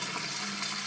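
Water draining from a hot water tank, a steady, close, full rushing flow with no break or other sound.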